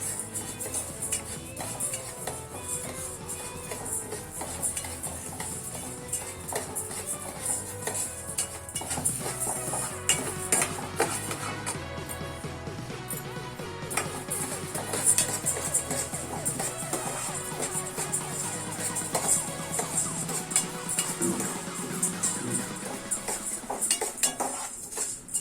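Toor dal lightly frying in a pan, with a steady soft sizzle and frequent scraping and clinking of a metal spoon stirring against the pan, close and continuous throughout.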